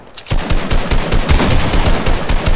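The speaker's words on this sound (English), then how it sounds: "I'm just trying to shoot." Fortnite gameplay gunfire as loud, rapid automatic bursts fire almost without pause, the shots dense and continuous after a brief quiet start.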